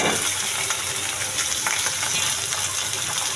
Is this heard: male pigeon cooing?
no